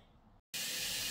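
A cleaning spray bottle gives one sharp, loud hiss after a brief pause, with quiet room sound before it.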